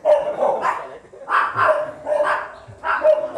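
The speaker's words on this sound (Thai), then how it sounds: "มีน้องหมาด้วย ปกติที่อื่นนี้หมาเห่าไหม" A dog barks repeatedly at a Thai riverside house with concrete buildings, sharp barks in quick bursts close by, with some faint voices in the background.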